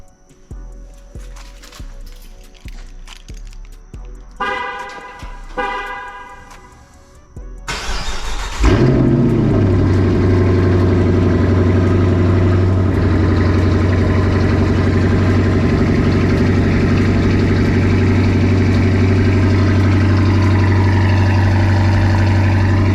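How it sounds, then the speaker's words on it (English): A 2021 Dodge Charger R/T's 5.7-liter V8 cranks on a cold start and fires up into a loud, deep idle that rumbles steadily and close for the rest of the clip, after some faint clicks and tones beforehand. "Let's give you guys a cold start."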